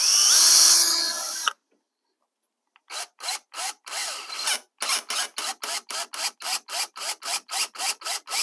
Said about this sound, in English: you can drill directly into the foam